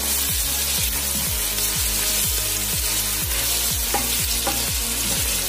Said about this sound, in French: les oignons et l'ail. Et je laisse encore bien mijoter.